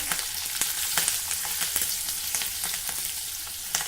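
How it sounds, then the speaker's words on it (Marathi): Roasted peanuts frying in hot oil as green chili goes in, a continuous loud sizzle with quick crackling pops and stirring scrapes close by, no speech. "हे शेंगदाणे छान परतवून झाले आता यामध्ये चवीनुसार हिरवी मिरची घालणार आहे"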